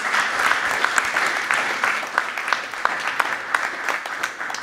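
Sustained audience applause fills a hall after a panel discussion on housing in Bremen, dense steady clapping from a sizeable crowd with a few sharper claps standing out, no speech over it.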